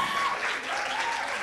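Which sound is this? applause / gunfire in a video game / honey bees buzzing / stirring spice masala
applause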